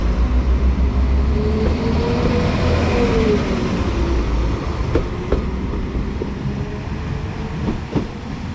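Class 197 diesel unit 197043 runs through Saundersfoot station toward Pembroke Dock, a loud steady rumble with wheel clicks and a faint high whine that eases slightly toward the end.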